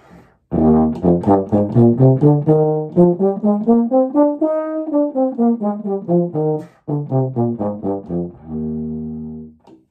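A solo melodic instrument plays a two-octave scale, rising step by step and then descending in even notes, ending on a sustained low tone.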